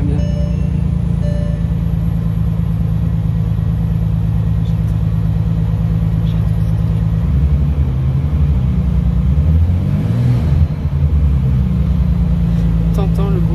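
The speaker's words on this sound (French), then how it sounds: "T'entends le bruit du V12 quoi." A 2011 Bentley Continental GT Speed with a V12 engine idles and revs: a steady, loud low rumble that swells and wavers midway, heard close up.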